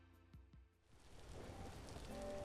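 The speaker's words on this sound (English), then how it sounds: "Still got about a day and a half of rain left." Steady rain falling outside, a soft broadband patter that swells after a few faint knocks and stays even and fairly quiet, with no voices.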